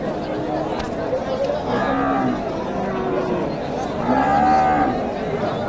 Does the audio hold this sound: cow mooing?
yes